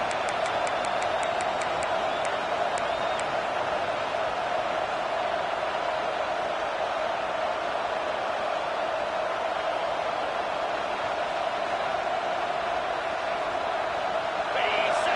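Big football stadium crowd at a UGA game roaring steadily near the goal line, a dense, loud, continuous wash of cheering and noise throughout with no break.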